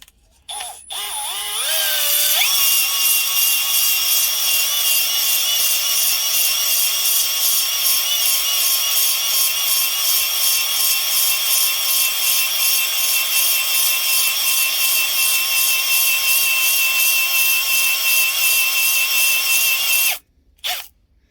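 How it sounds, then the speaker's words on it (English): A bottle hone spins inside an oiled engine cylinder on a Suzuki GT80 during a teardown, deglazing the bore with a steady, continuous whirring grind that holds for about eighteen seconds without a break, then cuts off abruptly. "I'm just going to run my hone, my bottle hone, through it real quick."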